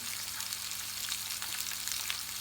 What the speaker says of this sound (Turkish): Bunu güzelce kavuracağım